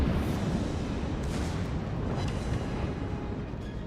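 Warship guns firing in a naval battle video game, a heavy low boom with a long rumbling roll that fills the short stretch, loud and continuous with no talk.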